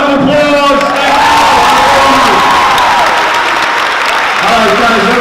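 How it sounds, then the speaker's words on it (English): Students at a high school fall assembly burst into loud applause and cheering, with whoops and shouting voices over dense clapping that swells and stays strong throughout. "Round of applause!"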